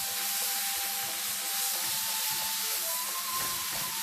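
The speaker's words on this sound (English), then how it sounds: "I'm just going to cook it until it's cooked through. Keep turning it." Lemongrass pork cooking over medium-high heat in a pan, giving a steady, dense hiss of frying that runs unbroken from start to finish, close and fairly loud, with no talk.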